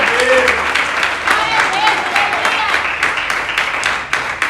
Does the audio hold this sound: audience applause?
yes